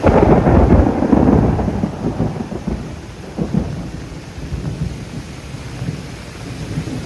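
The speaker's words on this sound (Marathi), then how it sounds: "नुसता गडगडत आहे पाऊस" A deep roll of thunder booms during a heavy monsoon downpour near Kondeshwar Temple in Badlapur, loud at first then rumbling away beneath steady rain hiss.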